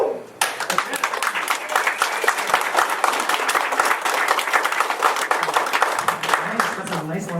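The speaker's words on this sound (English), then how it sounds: "That's a nice long applause." Wedding guests give a long, steady round of applause at a wedding, dense clapping sustained loud and close for several seconds without a break.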